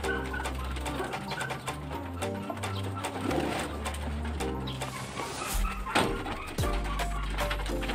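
Racing pigeons cooing in a loft, repeated low soft coos layered with rustling and scattered clatter throughout, fairly faint and close.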